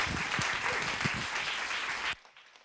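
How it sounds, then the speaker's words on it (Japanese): A church congregation claps to welcome a preacher to the pulpit, a dense burst of applause that stops abruptly after about two seconds, leaving near silence. "メッセンジャー慎吾先生を講談に拍手で迎えたいと思います"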